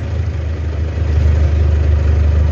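A 1965 Rural car with a rebuilt Perkins 4203 engine idles just after starting, giving a close, steady, low rumbling throb with even rhythm and no voices.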